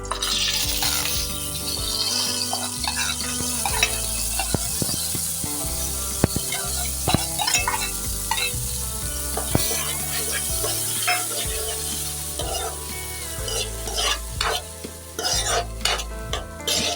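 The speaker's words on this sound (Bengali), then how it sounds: "চালটা ভেজে নিলে কি হয় ফ্লেভারটা ভালো আসে এর জন্য আমি ভেজে নিচ্ছি" Gobindobhog rice frying in a pan for payesh, heard as a dense, steady sizzle under rapid, rhythmic scraping and rattling of a spoon stirring the grains against the metal, close up and with no speech.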